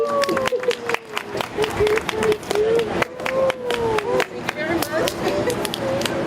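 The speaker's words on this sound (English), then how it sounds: "So a big round of applause for Sue." An audience at an evening children's storytelling event claps in a sustained round of applause with scattered sharp claps. A voice talks over it and a rising tone runs through.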